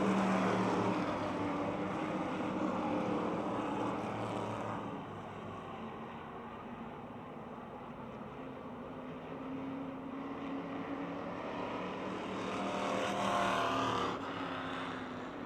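Stock cars race around the Motordrome Speedway oval, Ford Thunderbird among them, their engines a continuous droning roar that swells and fades as the pack passes, heard from a distance.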